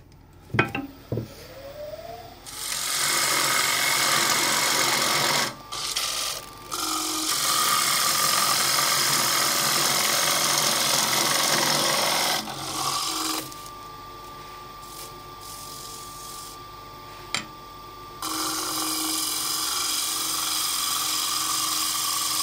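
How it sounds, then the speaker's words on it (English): A power sander works a curved piece of wood mixed with crayon, running loud and steady in long stretches with a couple of brief pauses and a few stops and restarts. "Now I think this will sand away."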